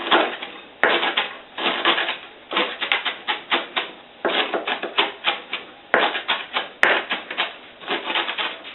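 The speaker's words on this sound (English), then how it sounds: "I'm going to get a rough cut" Knife rough-chopping herbs on a cutting board: rapid rhythmic bursts of close, crisp chopping strokes in quick repeated runs with brief pauses between.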